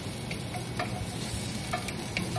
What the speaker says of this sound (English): So you stir it so it doesn't burn.